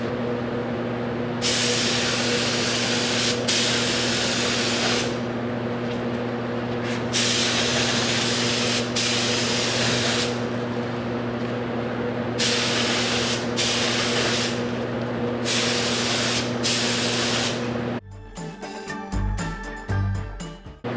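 A spray gun hisses out a sealer coat on a Kia Stinger GTS body, with repeated long bursts of steady spraying separated by short pauses, over a constant mechanical hum and ending in clinking.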